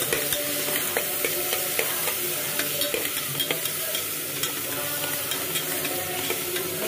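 Turmeric and sambar masala are stirred into a sizzling mixture in a pan, with steady frying hiss and repeated light scraping of a spoon throughout, no voices.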